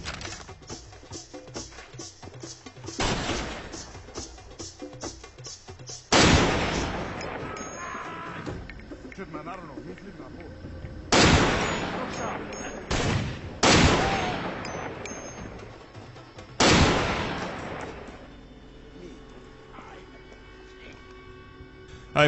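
Gunfire from the Far Cry 2 video game, with loud sniper rifle shots at a fort standing out over rattling bursts of automatic fire and explosions, repeated through the stretch.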